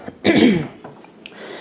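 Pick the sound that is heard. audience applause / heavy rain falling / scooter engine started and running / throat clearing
throat clearing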